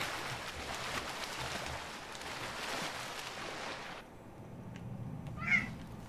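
A cat gives a single short meow near the end, faint and brief, after several seconds of washing, surf-like noise that cuts out, with no talking.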